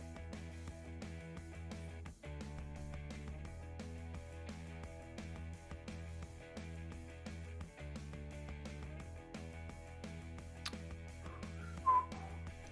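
A person whistles a theme melody, a string of clear, slightly out-of-tune held notes with short breaks between phrases, close and fairly quiet.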